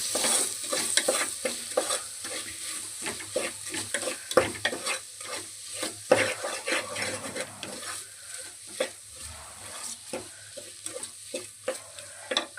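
Spoon stirring salt into mushroom biryani in a pan, repeated scraping strokes over a soft sizzle, close and fairly quiet, no talking.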